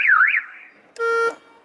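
Car horn on a Nissan Skyline R34 sounds in one steady, loud blast of about a third of a second, with the car's earlier electronic alarm-like tone fading out before it.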